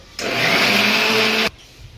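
A kitchen mixer grinder whirs loudly for about a second and a half, grinding coconut with a steady high-pitched motor whine that starts and stops abruptly, with no talking.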